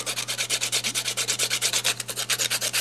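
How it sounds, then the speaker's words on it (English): A watercolor paper jewelry pendant being sanded by hand in quick, even back-and-forth strokes, a soft rhythmic rasp repeating about eight times a second over a low steady hum, with no voices. "you have to sand it, you have to refine it"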